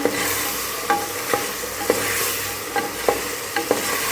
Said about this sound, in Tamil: அவரைக்காய், வாழைக்காய். ஒரு நிமிஷம் வதக்கிக்கலாம்.